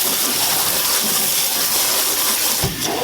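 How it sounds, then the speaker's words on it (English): Cold tap water gushes steadily over cooked noodles in a strainer, a broad continuous splashing rush that stays loud throughout and shifts briefly near the end as the stream changes. "Then we're gonna rinse this with some cold water."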